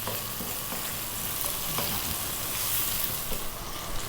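Cherry tomatoes fry in garlic olive oil as they are stirred, a continuous bright sizzle with soft scraping and little pops close by, steady throughout with no talk.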